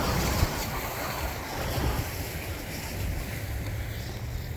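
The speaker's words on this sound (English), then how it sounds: "that wind picked up, and even though it's incoming tide, we have massive 3-4 foot rollers out there" Strong wind and 3-4 foot rolling waves on the water at the Buoy 10 fishing area during an incoming tide, a steady loud roar of surf with wind buffeting the microphone and no voices.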